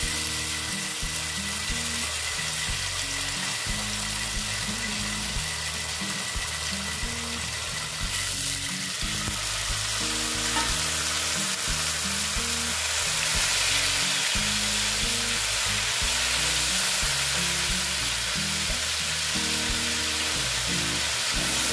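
Ginger garlic paste frying in oil in a pan, a continuous close sizzle that swells louder partway through, with low tonal background hum throughout.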